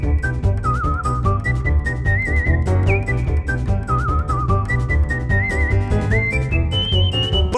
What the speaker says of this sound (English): that's quite enough of that whistling